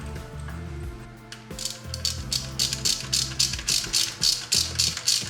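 A tool clicks rhythmically while a left-hand-thread pinion gear nut is torqued with the pinion locked in place, a run of sharp, evenly spaced ratcheting clicks close by.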